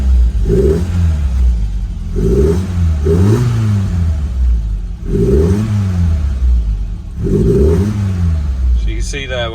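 A Lotus Elan engine revs hard under throttle in four loud, rising blips with pauses between them, heard up close with a speaking voice nearby.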